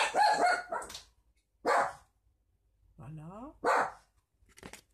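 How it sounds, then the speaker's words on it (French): A dog barks several times in short separate bursts, fairly close, with a person talking briefly in between. "c'est mon chien que vous entendez"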